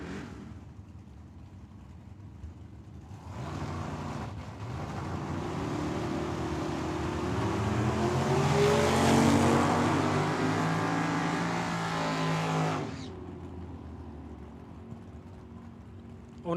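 A Vega and a Chevelle launch side by side down a drag strip, a loud engine roar swelling suddenly, sustained and rising for about ten seconds, then dropping back to a distant rumble.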